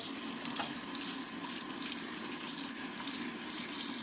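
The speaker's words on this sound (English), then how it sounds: "I'm going to drain that and run down with running cold water" Cold tap water runs into a kitchen sink as a pot of cooked chicken drumsticks is drained, a steady close splashing rush that continues evenly throughout.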